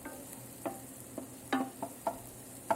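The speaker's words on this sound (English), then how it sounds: "got the onions, gonna throw in celery, throw in the carrots, get that stirred" Onions, celery and carrots sauté in a pan, giving a quiet, soft sizzle under a handful of distinct spoon taps and scrapes as the vegetables are stirred.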